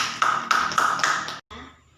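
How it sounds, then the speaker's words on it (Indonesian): A fifth-grade classroom of students claps in a quick rhythmic pattern of four or five sharp, evenly spaced bursts, then the claps stop abruptly with a brief trailing noise. "Tepuk tangan untuk anak Ningsi."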